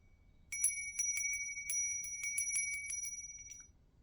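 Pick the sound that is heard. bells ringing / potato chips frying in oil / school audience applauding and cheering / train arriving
bells ringing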